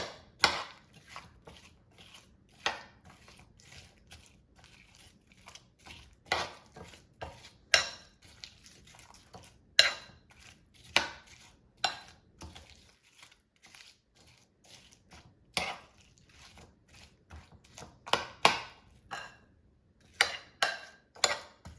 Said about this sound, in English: And now I'm just going to mix everything together.